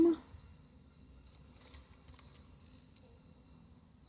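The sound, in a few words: crickets chirping in the video game Dead Space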